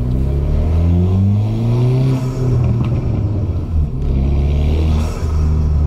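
Ford Fiesta ST engine rumbling loudly from inside the moving car, with low burbling exhaust tones that rise and fall through revs and shifts.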